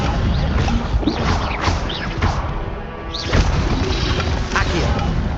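In the Hogwarts Legacy video game, the Incendio fire spell erupts in loud, booming bursts that thump and crash repeatedly, close and dense, with a brief lull midway.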